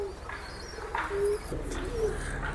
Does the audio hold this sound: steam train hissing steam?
no